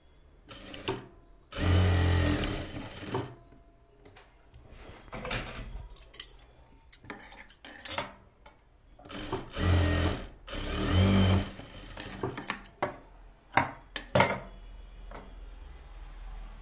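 A sewing machine stitches a blouse shoulder seam, running in several short, loud, rapid bursts separated by pauses and light ticking handling noises, close by and with no talking.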